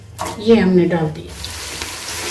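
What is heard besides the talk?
onion sizzling as it is added to hot mustard oil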